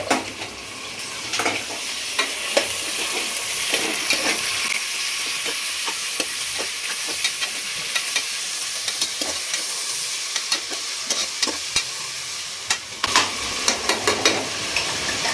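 Tomatoes and onions sizzle steadily in a hot pan for biryani, with frequent scraping stirs of a spoon against the metal coming through close and clear over a constant fry.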